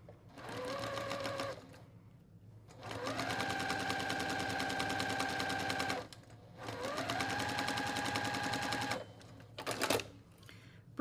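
A sewing machine stitches a quilt block in three long, fast, rattling bursts separated by brief pauses, close and steady, ending with a short final run.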